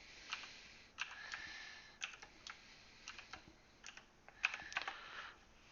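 A password is typed on a computer keyboard, with quiet, irregular clusters of key clicks spread across a few seconds, close but faint.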